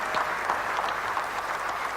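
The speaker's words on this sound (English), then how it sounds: "Applause from his fellow players and cricketing manager Mike Proctor" Steady applause from fellow cricket players and the team manager after a batsman's maiden Test century in a 1992 South Africa versus India Test match, a broad continuous patter of clapping at moderate distance.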